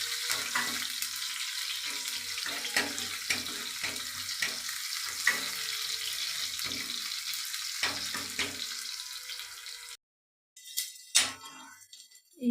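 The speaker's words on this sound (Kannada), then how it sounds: "ಈಗ ಇಲ್ಲಿ ಫಸ್ಟಿಗೆ ನಾನು ಒಗ್ಗರಣೆಗೆ ಬೆಳ್ಳುಳ್ಳಿ ಜಜ್ಕೊಂಡಿರೋದು ಹಾಕೋತಾ ಇದ್ದೀನಿ" Crushed garlic frying in hot oil for a tempering, with a close, steady sizzle and small crackles, joined by intermittent scraping as it is stirred. The sizzle breaks off, followed by a few knocks and rustles.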